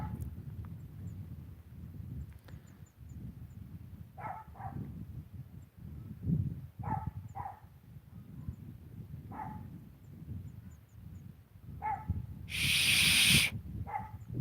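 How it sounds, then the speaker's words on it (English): Dogs bark outdoors at night in a handful of short, separate bursts spread across the stretch, moderately distant, over a low steady rumble, with a sharp hiss near the end. "Sorry about the doggies."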